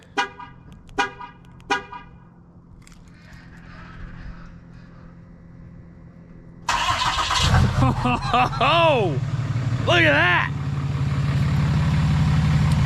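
A RAM 2500 diesel pickup answers a triple-press remote lock with three short horn chirps, then its engine turns over and settles into a loud, steady diesel idle, while a person speaks briefly over the running engine.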